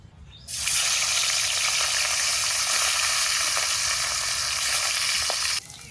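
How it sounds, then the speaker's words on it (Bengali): Pieces of catla fish fry in hot oil with a loud, dense hiss that starts abruptly, holds steady for several seconds, then drops away suddenly. "এই যে কাতলা মাছগুলো কড়া করে ভাজলাম"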